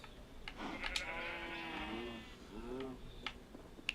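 Sheep bleating in the Minecraft video game, several drawn-out wavering bleats overlapping in close succession, fairly loud and alone with no talk.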